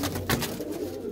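Pigeons in a loft coo softly and close by in a brief, low murmuring call.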